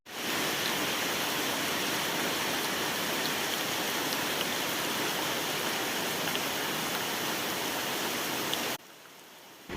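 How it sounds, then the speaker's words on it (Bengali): Heavy monsoon rain from Cyclone Remal roars in a dense, constant hiss for several seconds, then abruptly drops to a much quieter patter near the end. "মুসলধারে বৃষ্টি শুরু হয়ে গেছে কারেন্টও চলে গেছে"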